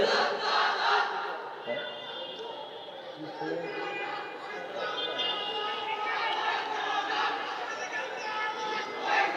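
An audience at a Bengali Islamic religious sermon chants slogans together, a steady crowd roar of many voices that rises and falls and stays loud throughout.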